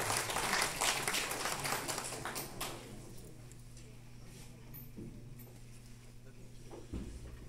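Audience applause at a swearing-in ceremony for municipal councillors in Peru, fairly loud clapping at first that thins and fades into scattered claps over a low hum.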